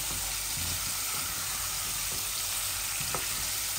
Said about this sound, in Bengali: এই যে আমি মূলা আর কারিটাকে ভালো করে ভাজবো